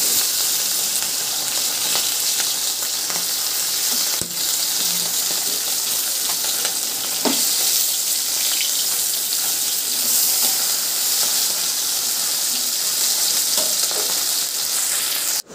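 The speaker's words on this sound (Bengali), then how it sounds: "চলো ওদিকে মাছটা ভাজা হতে থাক" Fish fries in a pan with a steady, loud sizzle and crackle that runs unbroken throughout, with a few clinks and a brief spatter partway through, and no voices.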